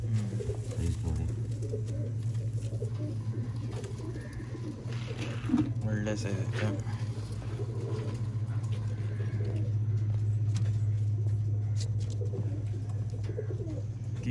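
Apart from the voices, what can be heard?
pigeons cooing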